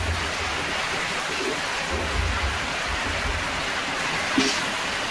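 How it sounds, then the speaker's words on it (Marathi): Heavy monsoon rain pours steadily in a continuous dense roar, with low rumbling underneath and a faint knock near the end. "आमच्याकडे बघा किती पाऊस आहे"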